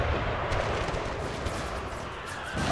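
Artillery fire at a 150th anniversary Pickett's Charge reenactment: several loud, rolling cannon booms in quick succession, each with a broad echoing tail that carries over the field.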